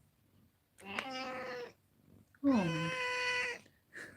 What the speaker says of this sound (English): I have basically a black and white cat on my lap as I'm broadcasting